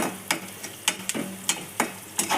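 Onions and turmeric frying in a pan, stirred with about seven quick, regular scraping strokes over a soft, low sizzle.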